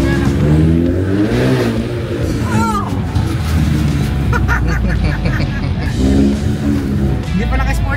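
A Mustang's engine in the Mafia video game revs loudly and repeatedly, its pitch climbing and dropping in quick surges. Excited voices chatter over it throughout.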